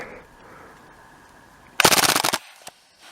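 A CO2-powered Uzi BB submachine gun fires one rapid burst of about a dozen sharp cracks lasting half a second, followed by a couple of faint clicks in an otherwise quiet outdoor setting.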